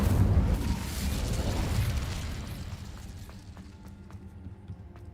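A fire spell cast in Hogwarts Legacy, a loud fiery burst that roars at the start and then fades over several seconds into a quieter crackle with faint scattered clicks.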